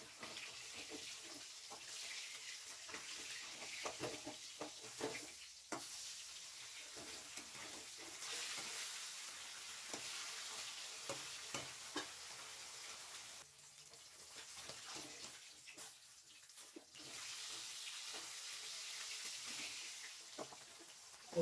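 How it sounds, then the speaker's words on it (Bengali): Rohu fish pieces frying in oil in a pan, a steady soft sizzle and crackle running the whole time with faint clinks, alone with no talk. "আমার দিকে মাছটাও ভাজা হয়ে গেছে।"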